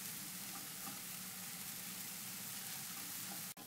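Vegetables and dried shrimp fry quietly in a pan for Vietnamese fried rice, a soft continuous sizzle with faint stirring, steady throughout until a brief dip at the end.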